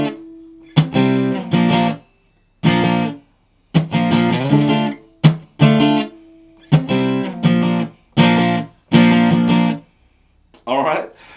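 An acoustic-style guitar strums the chord progression of a pop song at full speed. Bright, ringing chord bursts come in a halting rhythm with short silent gaps between them.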